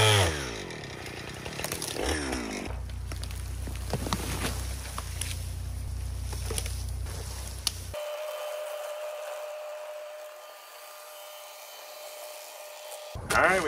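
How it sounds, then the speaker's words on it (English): A chainsaw cuts through a tree that a log is stuck on during a solo log cabin build, its engine roaring steadily and close for several seconds before dropping to a quieter, lower idle hum. "Get my chainsaw and just cut that tree here that it's stuck on."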